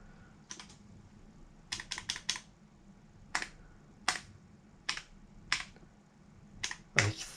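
Keys on a Sinclair Spectrum +2A keyboard pressed one at a time, crisp clacks in sparse single and clustered strokes over a quiet background, with no talking.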